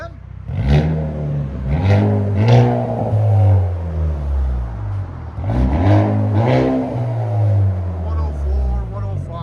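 Loud, raspy exhaust from a 2025 Hyundai Elantra N as its engine is revved repeatedly in close bursts, with two groups of rising and falling blips over a rough idle.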